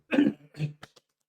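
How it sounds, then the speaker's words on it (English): A person coughs a few times close up, one harsh burst followed by smaller throat-clearing coughs. "Sorry, I need to cough."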